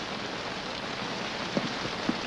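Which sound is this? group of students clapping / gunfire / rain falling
rain falling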